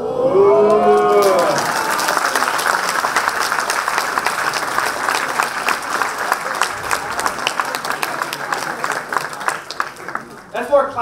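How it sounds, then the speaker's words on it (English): Enthusiastic applause from a large lecture audience during a Pluto talk at a college festival, rising after a brief voice at the start, then sustained dense clapping that thins toward the end. "That's more clapping than I've gotten in a talk before ever"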